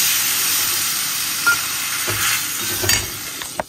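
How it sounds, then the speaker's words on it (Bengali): Kashmiri chilli and turmeric masala frying in a pan, a loud continuous hiss and sizzle with a couple of brief knocks and bubbling bursts as water goes in, close up with no voices. "এটা কষা কষা হয়ে গেছে, জল দিয়ে দিচ্ছি।"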